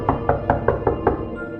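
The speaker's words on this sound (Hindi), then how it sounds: "फिर से उसे दरवाजा खटखटाने की आवाज सुनाई दी" Knocking on a door as a horror story sound effect: six sharp, evenly spaced knocks ring out loud and close, followed by a brief quiet tail.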